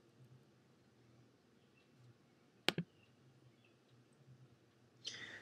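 A single sharp mouse click, a quick double tap, stands out against faint room hiss, followed a few seconds later by a softer rustle, with no talking.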